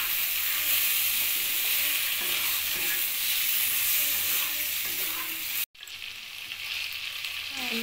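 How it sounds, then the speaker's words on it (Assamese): Cumin powder, coriander powder and chicken masala fry and sizzle steadily in a hot pan, a loud continuous crackle with a brief pause near the end before the sizzling resumes. "কিবা ফ্ৰাই কৰিব লাগিব,"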